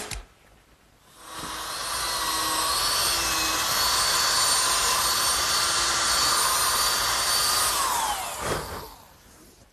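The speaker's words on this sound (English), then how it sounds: "Now I'm pre-drilling holes for the screws that'll fasten the top" A loud, steady high-pitched drill whine runs for about seven seconds while pre-drilling screw holes in wood, starting and stopping cleanly with quiet before and after.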